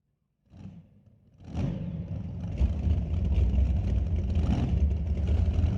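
Drag racing cars at Mission Raceway Park, Pro Mods and a Top Fuel Harley, rumble in from near silence, a brief engine swell then a loud sustained low roar building and holding steadily.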